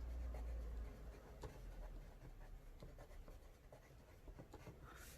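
A watercolour pencil scratches and scrapes across a colouring book page in a steady run of close, faint strokes, with no voices.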